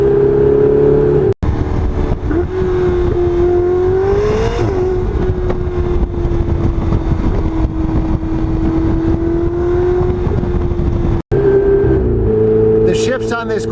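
Ferrari 488 Spider engine revving loudly and continuously, its pitch climbing and dropping through rapid downshifts with brief cuts between gears, close up inside the car while people talk over it.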